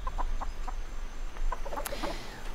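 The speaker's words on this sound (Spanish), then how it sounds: "aquí rodeada de gallos y hablando de energía" Chickens and roosters clucking steadily on a farm, with several short calls scattered across the stretch and a brief sharper cry near the middle, all close and fairly loud against a constant low background hum.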